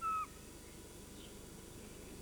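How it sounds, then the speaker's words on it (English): A short whistled call of a pygmy owl in European forest, a single clear tonal note near the start, followed by faint ambient woodland background. "the pygmy owl"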